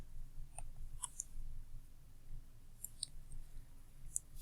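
Sharp computer mouse clicks, several isolated taps spaced irregularly over a quiet background hum, crisp and close.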